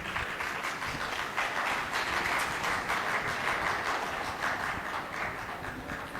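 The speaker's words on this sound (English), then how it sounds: "You are clapping at the wrong time." Lecture audience clapping during a talk on human rights and Kashmir, a dense, steady wash of many hands that fills the space without letting up.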